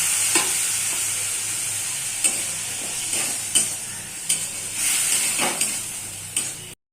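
Bitter gourd (karela) fries in a pan as water is added bit by bit, producing a steady close sizzle broken by several sharp stirring scrapes.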